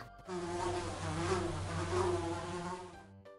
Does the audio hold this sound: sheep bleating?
no